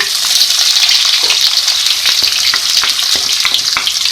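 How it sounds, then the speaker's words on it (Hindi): Onions fry in hot oil for beef dum keema, a loud continuous close sizzle with crackling pops and stirring scrapes and no voices. "सबसे पहले हम ऑयल में प्याज डालेंगे"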